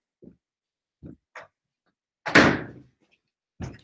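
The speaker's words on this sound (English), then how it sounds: "slamming the door when your mom or dad asks you to clean up your room" A door slams once with a loud, sharp bang and a short ringing decay, preceded by a few soft knocks and thumps and followed by another dull thud.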